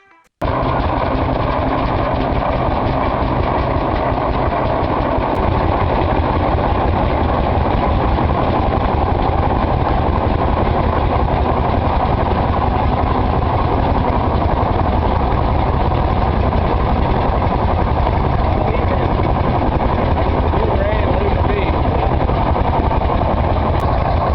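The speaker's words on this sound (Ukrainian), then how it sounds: "поле здригнулося від гуркоту двигунів" Tractor engines pulling the world's largest 66-body plough rumble continuously, a loud, steady low drone that holds for the whole stretch with no voices.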